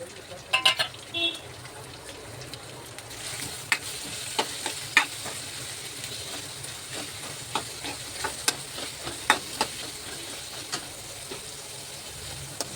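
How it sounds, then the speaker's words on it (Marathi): Finely chopped onions fry in hot oil for a black pea vegetable curry, with a continuous close sizzle throughout. Scattered sharp clicks of a spoon stirring against the pan punctuate it. "मी याच्यामध्ये दोन का कांदे असे बारीक चिरून टाकणार आहे आणि ते चांगले लाल होईपर्यंत तळून घेणार आहे"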